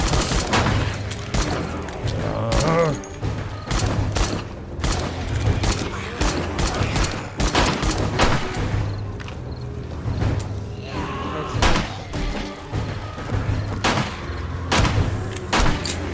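Repeated gunfire during a blood moon night in 7 Days to Die, sharp shots in irregular bursts, loud and close, with scattered mechanical clatter between them and no talk.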